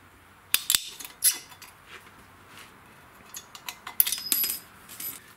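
Small muffler clips on a Stihl MS291 chainsaw being popped off with a pick, a few sharp faint metallic clicks and snaps in two separate bursts against a quiet background.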